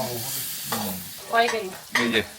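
Food frying and being stirred in a pan in a Chakma home kitchen in Sajek, cooking traditional hill dishes; bursts of scraping and sizzling come in a few uneven surges, close by, with no talk.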